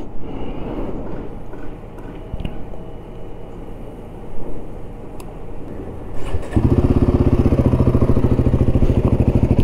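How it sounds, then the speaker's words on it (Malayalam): A Royal Enfield Guerrilla 450 motorcycle: after about six seconds of clattering handling noise the engine catches and settles into a loud, steady, throbbing exhaust idle, close up with no talking. "ഇതാണ് ഇതിൻ്റെ എക്സോസിൻ്റെ സൗണ്ട്. അത്യാവശ്യം ലൗഡാണ് എക്സോസ്റ്റ്."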